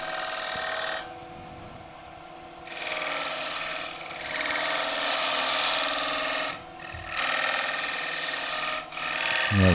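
Tool scraping a wooden bead on a spinning lathe while turning a table lamp gives a loud, raspy, hissing rasp in bursts of several seconds, separated by quieter pauses, close up and without talk.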